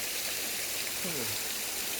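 Waterfall at Than Nam Sai in Phu Pha Yon National Park, Sakon Nakhon, Thailand, heard as a steady, fairly faint rush of falling water with a brief low voice under it.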